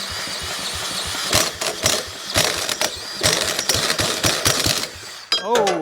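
An old, rare three-wheeler that has sat for 15 years, being cranked to start: repeated short, rough bursts of engine cranking that sputter without catching, close by, with a voice briefly at the end.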